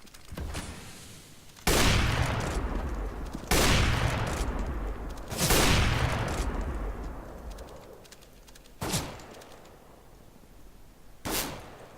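Gunfire in Counter-Strike: several sharp, loud shots or bursts, each followed by a long decaying reverberant tail, spaced irregularly over the span, with quieter shots toward the end.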